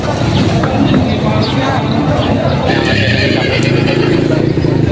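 Horses being loaded onto a truck at a livestock market in Padre Garcia, Batangas, whinny loudly and close by, with hooves clip-clopping and stamping among a general bustle of activity.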